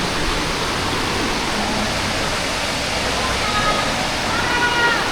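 Water rushes steadily at Hotnitsa Waterfall in Bulgaria, swollen after heavy rain, a loud, unbroken broadband roar heard close by, with a few voices faint beneath it.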